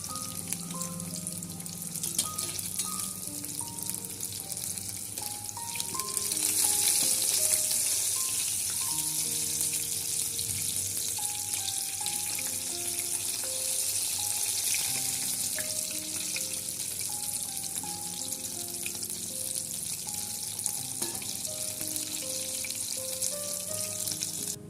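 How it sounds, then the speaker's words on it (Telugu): Samosas frying in oil give a continuous bubbling hiss with a brighter, louder burst partway through, while soft background music plays throughout. "మనం ఇప్పుడు ఆయిల్లో ఫ్రై చేస్తాం."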